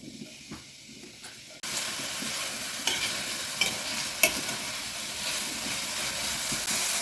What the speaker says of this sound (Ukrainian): смажу цибулю до золотистого кольору